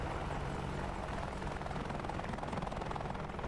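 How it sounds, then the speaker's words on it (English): An AH-64D Apache helicopter flies in the DCS video game, its rotor producing a steady, dense whooshing thrum with a fast pulsing beat, continuous and moderately quiet. "You can do a lot with this helicopter."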